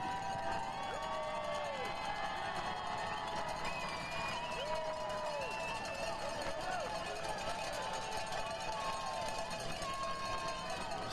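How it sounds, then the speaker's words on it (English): Stadium crowd at a professional soccer match giving a round of applause, a distant, steady wash of clapping and cheering with whistles, rather faint and continuous throughout. "Receiving a well-deserved round of applause."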